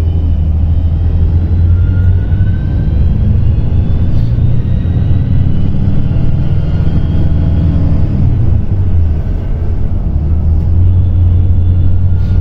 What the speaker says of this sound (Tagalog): Pakinggan naman natin yung tunog ng Yuchai 330 horsepower Euro 5 engine.